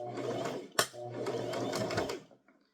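Sewing machine back stitching on a toddler crossbody purse, a short close run of fast mechanical stitching broken by a sharp click, then ending abruptly.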